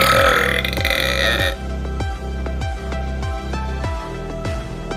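Loud, long burp from a contestant in a burping contest, a deep croaking belch with a rapid pulsing rattle that rolls on for several seconds, close and dominant.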